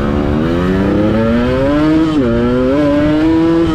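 Loud, close Yamaha RX-King motorcycle engine revving continuously with a slipping clutch, the rough exhaust note rising and dipping in pitch over a few seconds.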